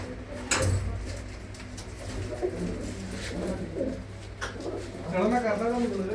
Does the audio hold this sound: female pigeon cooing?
yes